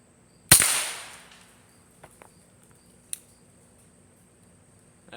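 A single sharp report from a suppressed PSA Dagger pistol firing subsonic rounds outdoors, followed by a few faint clicks and one small metallic tick, then near silence.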